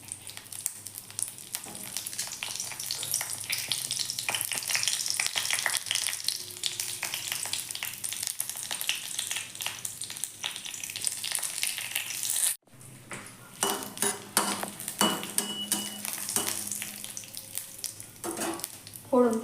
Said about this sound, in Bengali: ফোড়ন থেকে হালকা গন্ধ বেরোচ্ছে, অর্থাৎ এগুলো একটু ভাজা ভাজা হয়ে গেছে